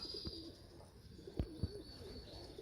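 Young pigeons in a loft on an early morning before rain give a few soft, low coos, spaced out over a quiet, hissy background.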